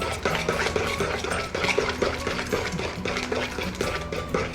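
Chocolate banana bread pudding mixture being stirred in a bowl, close and continuous scraping and clinking of a utensil against the bowl in an uneven rhythm, without talking.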